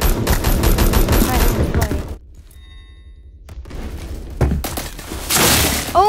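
Rapid automatic gunfire from the online shooter Phantom Forces rattles loudly in dense bursts, drops out for a near-silent gap, then resumes with sharp shots and another heavy volley near the end.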